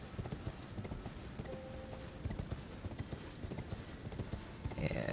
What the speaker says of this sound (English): Horseback battle.